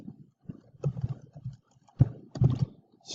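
Clacking keys on a computer keyboard during spreadsheet work sound in short uneven bursts of taps, quiet and close, with brief pauses between runs.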